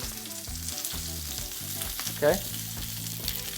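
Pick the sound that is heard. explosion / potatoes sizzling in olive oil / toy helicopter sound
potatoes sizzling in olive oil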